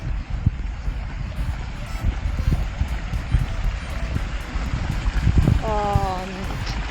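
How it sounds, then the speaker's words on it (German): A small river in Tajikistan flows with a steady rushing, burbling wash close by, continuous and fairly loud, with wind buffeting the microphone and a short bird call near the end. "Hier ist unser kleiner Fluss"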